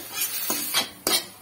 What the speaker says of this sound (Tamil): இது கொஞ்சம் நல்லா கூடவே சேர்த்து நல்லா வதக்கிக்கலாம்.